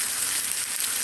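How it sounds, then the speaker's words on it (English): Okra frying in a hot cast iron skillet over a flame, a steady close hiss of oil sizzling with no break. "anytime you're frying in cast iron"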